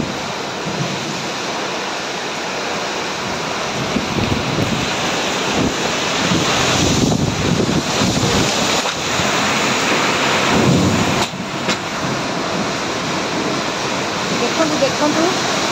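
Kalbaishakhi thunderstorm in Bhadrak, with steady loud roaring wind and heavy rain beating down continuously, thunder rumbling beneath the broadband wash.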